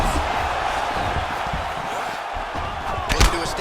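Arena crowd noise from the UFC 4 fighting game, a steady roar of spectators under impact thuds, swelling briefly near the end as a heavy strike lands.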